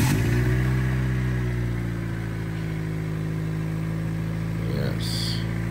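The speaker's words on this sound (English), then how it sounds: "we're gonna start the car" A Honda D16A6 VTEC car engine, fitted with a new intake for autocross street tuning, turns over and settles into a steady, close, loud idle hum, with a brief sharper noise near the end.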